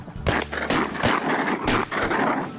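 A shotgun fires at ducks during a duck and goose hunt in Alberta, with several sharp blasts a fraction of a second apart, loud and close over a steady wind-like rush.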